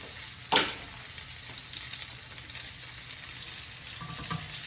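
Mushrooms frying in a pan for chicken marsala give off a steady, moderate sizzle with one sharp clatter near the start and a few faint utensil taps later.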